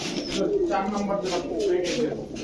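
Racing-line pigeons kept in pairs coo close by, with continuous throaty, rolling calls that overlap one another without pause.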